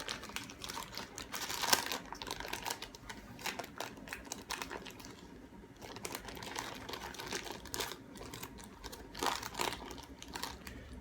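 Parchment paper crinkling and rustling as a potato roll with melted kaşar cheese is rolled up, soft irregular crackles and scrapes close by, with a few brighter crinkle bursts and no talking.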